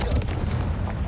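A Confringo fire spell in Hogwarts Legacy detonates in a heavy, close explosive boom. Low rumbling fills the brief moment, with no talk.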